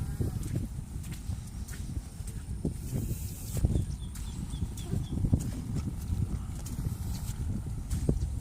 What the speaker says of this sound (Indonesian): Nih kerbaunya sebentar lagi sudah masuk